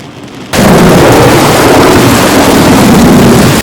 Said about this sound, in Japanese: うわ、落雷したぞ。